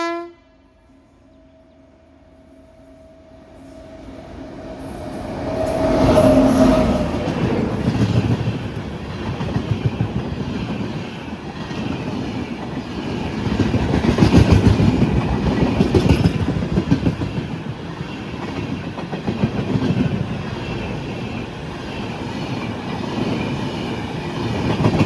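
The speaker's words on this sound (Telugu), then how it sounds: "Train number 12761 Tirupati Karimnagar." Express train 12761 from Tirupati to Karimnagar races through Kottapally station at high speed without stopping: a brief horn, then a loud, building roar and rhythmic wheel clatter that lasts about twenty seconds, with no voices.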